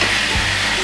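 Chicken and half-fried onions sizzle in a hot pan for a kodi iguru curry, a steady, close, loud hiss with a brief low bump partway through.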